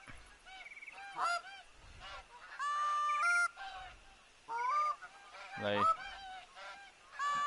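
A flock of geese in the Hirschfelden reserve of a hunting video game honks repeatedly in overlapping bursts, some calls loud and near and others fainter, with no talking.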